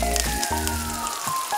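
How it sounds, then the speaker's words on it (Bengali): Chopped onion and green chili sizzling in hot oil for chowmein, a dense crackling fry with a few clinks from the pan, heard close and alone. "তো এরপর আমি এর মধ্যে দিয়ে দেব কাঁচা লঙ্কা কুচি, পেঁয়াজ কুচি। তারপর এই দুটোকে ভালো করে একটু হালকা হালকা করে ভেজে নেব।"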